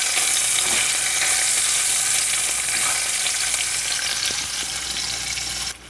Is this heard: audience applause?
no